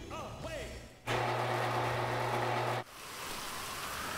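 Game rain falling in Grand Theft Auto V, a sudden burst of steady broadband hiss that starts abruptly, holds loud for nearly two seconds, then cuts off, with quieter ambient sound before and after.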